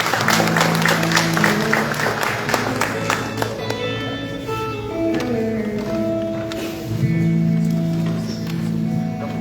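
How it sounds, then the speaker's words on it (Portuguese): A church congregation at an adolescent congress evening service applauds, a broad wash of clapping from many hands that is strongest at the start and then blends with sustained music and voices. "Glória a ti, aplauda esse nome."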